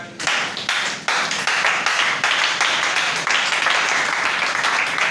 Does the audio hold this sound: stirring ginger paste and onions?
no